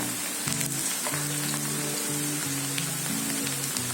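Hot oil sizzles steadily in a pan while ingredients for a homemade pickle fry with the gas switched off, giving a continuous, even hiss with no voices.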